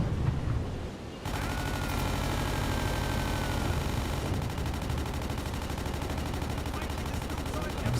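The deck guns of a World War II U-boat in the game Uboat open fire in a relentless, loud stream of rapid shots that starts abruptly after a brief lull and continues to the end.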